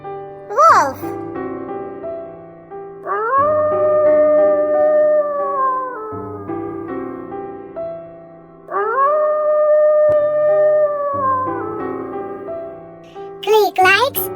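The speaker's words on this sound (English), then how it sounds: "Wolf." A wolf howls twice in a children's animal sounds sequence, each long rising-and-falling tonal howl held for several seconds over a soft musical background.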